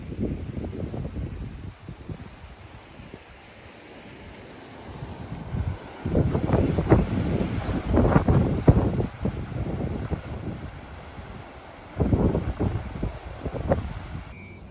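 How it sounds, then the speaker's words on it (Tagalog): Strong wind on a cliff at Tung Lung Chau, Hong Kong, buffets the microphone in rumbling gusts that rise and fall, with a low roar building in the middle and again near the end. "Patunay na sobrang lakas ng hangin."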